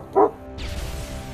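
A dog gives one short, sharp bark close by, wanting to be let out, then only low background noise remains.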